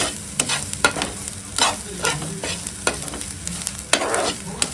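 Onion, grated coconut, ginger and garlic roasting in a pan, a dense close sizzle broken by quick regular scrapes and taps of a spatula turning the mixture.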